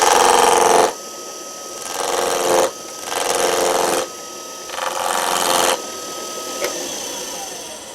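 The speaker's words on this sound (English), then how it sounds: "We use the skew chisel because we don't want to damage this back corner." A skew chisel cuts a V-groove into spinning wood on a lathe, giving a loud, rough rasping scrape in several bursts of one to two seconds, separated by quieter gaps while the tool lifts off.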